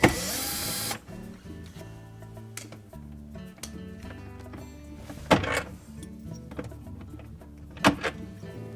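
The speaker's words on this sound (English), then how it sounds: "with our number 20 Torx bit, we'll remove these screws from the filter cover" A #20 Torx bit backs screws out of the filter cover on a Whirlpool dishwasher during seal and chopper replacement. A steady mechanical whir runs throughout, with a few sharp clicks and thunks near the end.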